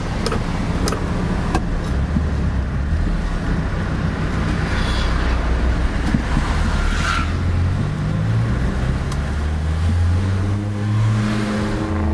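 A Holden Torana TA 1300 engine runs loudly throughout while driving onto a toll road, its pitch climbing and falling as it revs, with a few sharp ticks and clicks on top.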